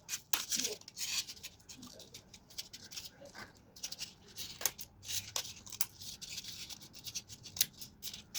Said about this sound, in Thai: พอเราตัดแผงไข่ลังกระดาษเรา ได้หมดแล้ว